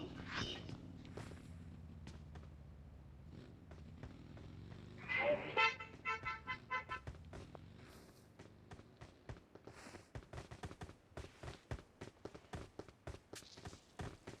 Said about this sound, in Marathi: इकडे गाडी आली.